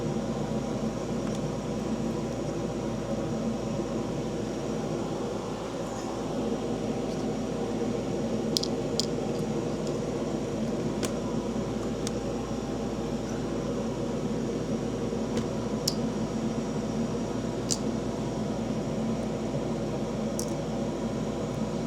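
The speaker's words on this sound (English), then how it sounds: "So now we're going to fire up the vacuum cleaner, and there's going to be some noise" A vacuum cleaner runs steadily, blowing dust out of a diode laser. The dense whooshing roar stays constant and close throughout, with a few faint higher squeaks and ticks on top.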